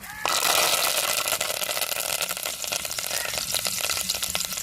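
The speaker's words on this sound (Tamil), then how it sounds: "எண்ணெய் சூடாயிருச்சுங்க அடு உளுந்து போட்டுக்கிறோம் கருவேப்பிலை போட்டுக்கிறோம்" Urad dal and curry leaves crackle and sizzle in hot oil, a loud, steady frying hiss that bursts in abruptly and holds with fine popping throughout, close up and with no talk.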